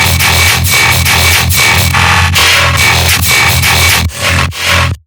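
Original bass loop sample from a MUERTE sample pack for tearout, a dense, loud and continuous growling bass riff with rhythmic pulses that cuts off abruptly at the end.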